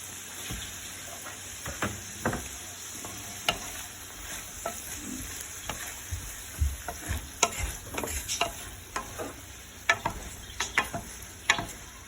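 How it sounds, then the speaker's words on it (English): Shallots sizzle softly in a pan, a steady hiss broken by scattered crackles and pops, with occasional stirring scrapes close by. "You hear the sauteing?"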